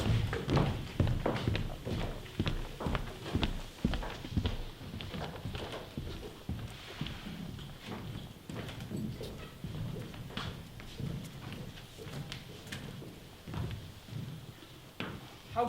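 Stage sound effect of horse hooves clip-clopping during a Macbeth performance, a continuous rhythmic series of hollow knocks and thuds at moderate level.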